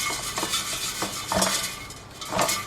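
An air fryer basket of bitter gourd chips being shaken, giving a few bursts of crisp rattling and clinking at close range against a steady fan hum.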